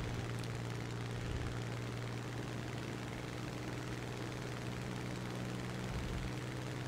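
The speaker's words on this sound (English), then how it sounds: "because we're both in Mark I Spitfires." Steady droning hum of Mark I Spitfire aircraft engines in the video game War Thunder, a continuous loud propeller-engine tone holding evenly throughout with no talking.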